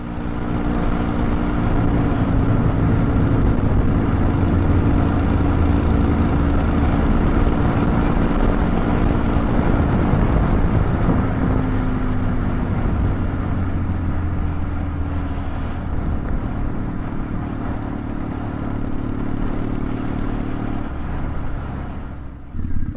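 A Triumph T100 motorcycle on the move produces a loud, steady engine drone mixed with rushing wind across the microphone. The note barely changes for the whole ride and a slight dip comes near the end.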